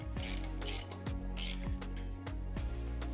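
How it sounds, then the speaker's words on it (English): Hand ratchet tightening a belt tensioner bolt during a Mitsubishi GTO engine rebuild, a close series of four sharp clicking strokes in steady rhythm, quiet and with no talk. "tighten this tension and bolt up"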